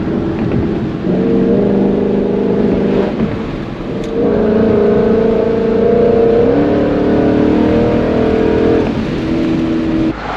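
A Ford Mustang S650 accelerates hard, its engine climbing through the revs in loud, close pulls broken by quick gear shifts, with no talking over it.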